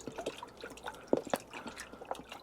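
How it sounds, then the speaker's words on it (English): Water pours into a tank of about 10 litres holding a carburettor for cleaning, giving faint, irregular splashes and drips at low level. "I'm going to fill this with water now."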